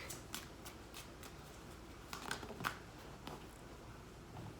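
Oracle cards being shuffled by hand before one is drawn, a series of quiet, close papery riffles and flicks at an uneven rhythm, with no talk.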